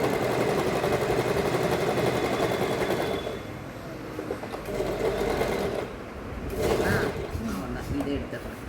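An Usha Wonder Stitch sewing machine stitches a hem, its rapid steady needle chatter running loud and close with brief slowdowns and pauses, and a voice speaks over part of it.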